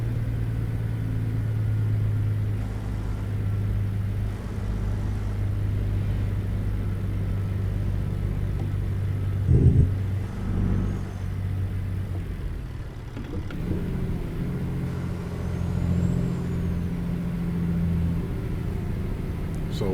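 A truck engine in American Truck Simulator rumbles steadily and rises in pitch as it speeds up, with a low drone throughout and a brief knock partway through.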